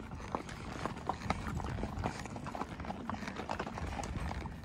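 Horse hooves clip-clop steadily on a rocky Arizona desert trail near Apache Junction, with a quick, irregular rhythm of close, distinct footfalls and faint creaks of tack.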